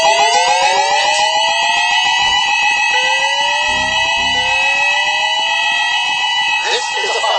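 A shopping mall's fire alarm siren blares loud and close, its piercing tones sweeping upward again and again in a repeating cycle that fills the space without pause.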